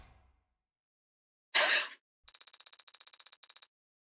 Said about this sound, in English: It caused her phone to go off.